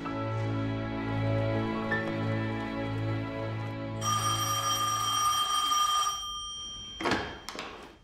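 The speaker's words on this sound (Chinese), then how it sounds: "好的，陆科长，你的电话。" An old-style telephone bell rings at a police station in repeated pulsing bursts, loud and near, followed by a brief high tone and a few clunks.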